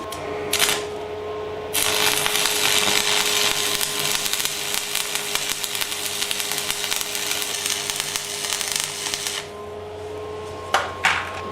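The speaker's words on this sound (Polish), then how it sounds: "spróbujemy zajarzyć łuk" Parkside arc welder from Lidl striking an arc on rusty black steel angle, a harsh continuous crackling buzz close up for about eight seconds after a brief first spark, ending abruptly, with short pops around it.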